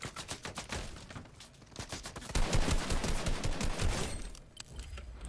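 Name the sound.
gunfire in a shooter video game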